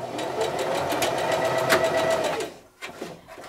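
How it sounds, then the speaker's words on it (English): A sewing machine runs in a steady whir while back stitching a quilt seam on a beginner baby quilt, then briefly stops and restarts in short bursts near the end; no talking. "I do back stitch on the beginning and the end of the seam"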